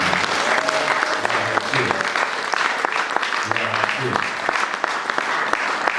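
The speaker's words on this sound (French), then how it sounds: "Acclame d'abord pour toi" Church congregation applauding and cheering throughout a worship service, a dense steady wash of clapping with some voices mixed in.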